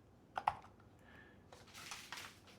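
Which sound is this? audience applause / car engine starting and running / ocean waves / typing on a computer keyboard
typing on a computer keyboard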